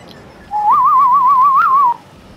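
A single clear whistled tune in Mafia: Definitive Edition, a warbling melodic line lasting about a second and a half, loud and close, with no talk over it.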